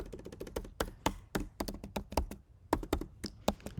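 Someone types quickly on a computer keyboard, close and faint, with a dense run of crisp key clicks, a short pause and then more keystrokes.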